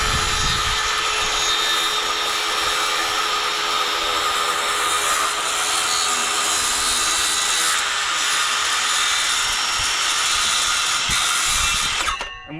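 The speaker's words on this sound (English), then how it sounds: "I want to cut the post down first, because otherwise they'll have to come back out anyway" A power saw cuts down a composite fence post outdoors, giving a steady, loud, unbroken grinding whine that runs for about twelve seconds and then cuts out abruptly at the end.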